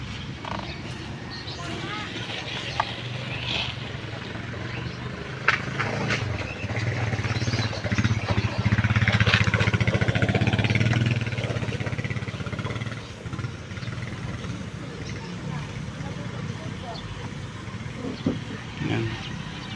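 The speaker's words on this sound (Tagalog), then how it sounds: "Gilid kasi ng kalsada to guys, kaya maingay, may mga dumadaang motor" Motorcycles pass along a hot, sunny roadside, engine noise swelling and fading as one goes by in the middle, heard from the verge beneath a person talking and other faint background sounds.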